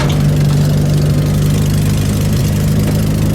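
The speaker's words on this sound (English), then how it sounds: "Engine's still a little cold." A cold VW Super Beetle engine idles with a steady, loud, low throbbing rumble and a slightly uneven beat, with no voices over it.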